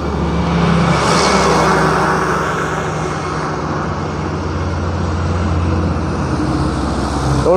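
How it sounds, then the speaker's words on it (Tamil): Vehicles pass on a misty highway on the route from Silchar to Guwahati, a dense, loud, continuous roar of engines and tyres with steady low rumble and no clear gaps between passing vehicles. "எவ்வளோ வண்டி போயிட்டுருக்கு"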